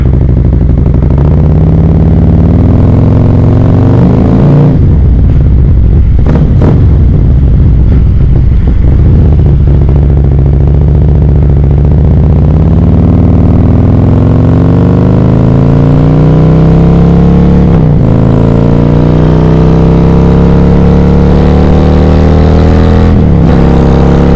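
A Harley CVO motorcycle fitted with an S&S 132 Stage 4 big bore kit roars up through the gears, deep engine note rising and falling with hard revs, close and loud throughout, no talking.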